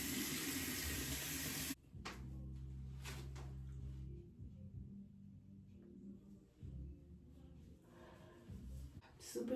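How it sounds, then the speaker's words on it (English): Lukewarm tap water runs into a sink while a face is rinsed off: a steady faint splashing stream, close by, with brief pauses and no talking. "Let's wash this off. Lukewarm water again."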